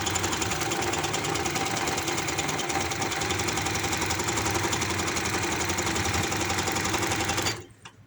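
A sewing machine stitches lace onto the leg of an umbrella palazzo, running in one steady, close, rapid motor buzz with no pause, then stopping abruptly near the end.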